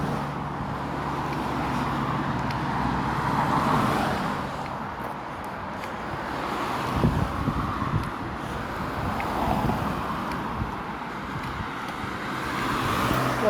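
A Ford Escort Mark 1 car passes on a road near Holton Heath, a moderate engine and tyre rumble that rises and fades amid wind noise and distant traffic.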